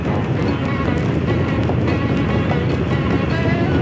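The Saturn V rocket engines roar at the Apollo 11 launch from the Cape, a dense, continuous low rumble and crackle that stays loud and even with no gaps.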